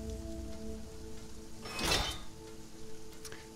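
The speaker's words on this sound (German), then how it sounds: "Schwarzer Regen." Steady game rain patters throughout in Sheltered, a contaminated black rain, with a soft tonal hum from the game underneath and one brief louder swell near the middle.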